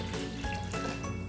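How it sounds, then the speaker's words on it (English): Water poured from a container into a blender jar for raw chocolate almond milk, a steady close liquid gush and trickle running throughout without pause. "we're just going to pour our water into the blender"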